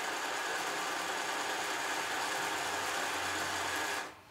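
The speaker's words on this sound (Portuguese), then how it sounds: "esse pano aqui para costurar na máquina, ele é bem melhor do que a malha" A sewing machine runs steadily, stitching woven cloth rather than knit fabric, with a continuous close mechanical whir that cuts off abruptly near the end.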